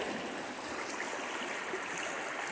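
Continuous gentle rush of stream water flowing through a channel at a stream improvement site, a soft, even broadband wash with no break or voices.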